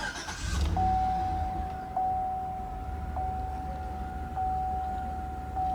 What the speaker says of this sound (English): now let's go ahead and start the engine